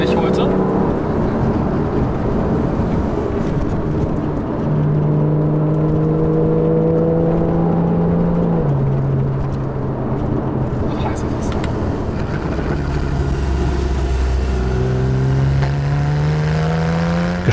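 A Porsche 911 Carrera S climbs the Great St Bernard Pass from Switzerland toward Italy on a bumpy road, its engine loud and close, the tone rising and falling in steps through the gears.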